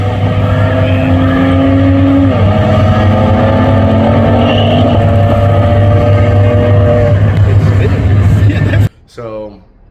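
Turbocharged car engine at 34 psi boost running lean, wheels spinning in second gear, a loud sustained droning roar with a slight pitch shift partway through, close up, cutting off abruptly near the end.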